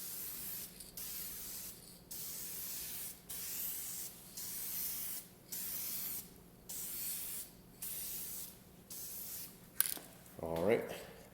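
VHT tint hisses from an aerosol can onto a headlight in about eight evenly spaced sweeping bursts, each roughly a second long, fairly quiet and close, followed by a short handling rattle.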